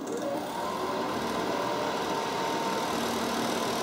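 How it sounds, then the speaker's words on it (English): Compressor of a battery-powered 12 V portable air conditioner running, a steady mid-pitched mechanical hum with a fan whoosh, close and continuous with no speech. "the compressor will automatically kick on and the fan will default to medium"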